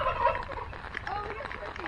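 A turkey gobbles on a farm on a rainy day, a rapid warbling call mixed with background murmur and a person talking nearby.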